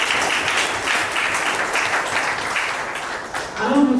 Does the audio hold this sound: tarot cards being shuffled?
no